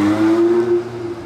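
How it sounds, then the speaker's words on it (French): A Porsche 918 hypercar gives a short acceleration in Monaco, a loud, close engine note rising briefly then holding and fading, with no voices. "Petite accélération de 918."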